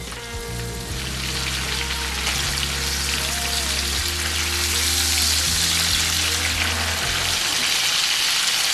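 Cube steaks frying in hot oil, a loud, steady crackling sizzle that fills the whole stretch, with a low hum running underneath and no talking.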